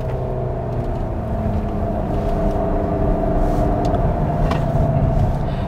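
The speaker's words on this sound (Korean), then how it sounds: "스포츠 모드로 주행을 하면서 변속기는 스포츠로 S모드로 두고 와인딩 코스를 한번 주행을 해보겠습니다" A front-wheel-drive Volkswagen Tiguan is driven in sport mode with the transmission in S along a winding road. The engine hums steadily with tones that climb and fall as it pulls through the bends.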